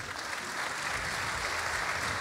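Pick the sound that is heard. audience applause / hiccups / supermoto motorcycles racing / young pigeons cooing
audience applause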